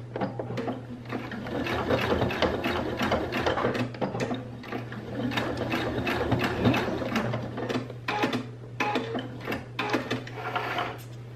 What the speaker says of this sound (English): Now I just need to backstitch.